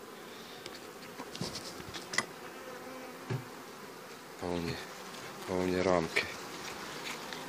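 Honeybees buzz around an open beehive in August, a soft steady drone with louder passes as individual bees fly close to the microphone; a person briefly speaks.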